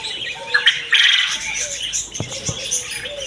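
King quails in a bird shop give short, chirping squawks and calls against a busy background of other birds, fairly close and irregular over a few seconds.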